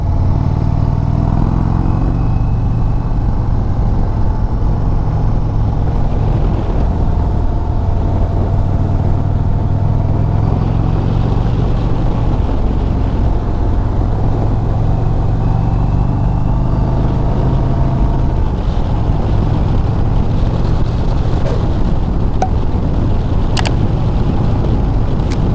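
A 2023 Indian Springfield Dark Horse cruiser motorcycle engine drones steadily while riding, a low throbbing rumble with wind noise, rising and easing slightly as the throttle changes.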